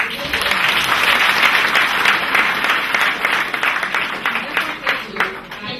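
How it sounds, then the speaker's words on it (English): Sustained applause from an audience at a talk on etiquette and dress code, dense clapping that holds steady and then thins into scattered claps toward the end. "A very big clap for"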